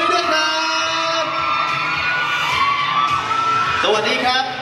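Audience at a Thai film press conference for a ghost movie cheers, whoops and claps loudly and continuously, a dense close crowd roar with shouting voices throughout.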